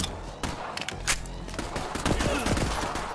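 Rocket-firing gun in the video game Borderlands 3 sends out a fast burst of launches and thudding blasts, loud and close, mixed with other game effects.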